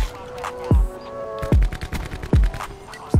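Video game gunfire from a sniper's nest, with four heavy booming shots at roughly even intervals, each followed by lighter clattering and mechanical clicks, loud and close.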